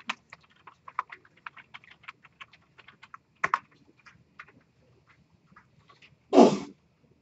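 A single sharp sneeze bursts out near the end, following a stretch of quiet, rapid keyboard typing.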